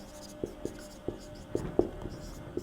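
Handwriting during a maths lesson on sets and intersections: a series of short, separate scratchy strokes and taps, about seven in under three seconds, close and fairly quiet over a soft room hiss, with no talking.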